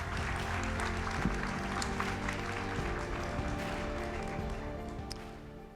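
An audience at an opening conference applauds a philosopher, a fairly quiet, sustained wash of clapping from a crowd that continues evenly throughout.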